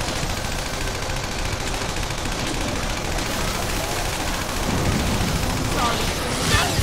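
Persona 5 Strikers battle gunfire, a dense continuous rattle of rapid shots blended with booming impacts and game noise, loud throughout, with voices mixed in.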